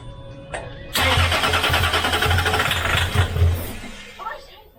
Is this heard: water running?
no